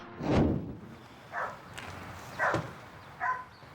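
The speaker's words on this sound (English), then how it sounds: "See, it's not too powerful of a bark, but that's more alert" An insecure dog gives four short, not very powerful alert barks, each spaced about a second apart, close by against a quiet background.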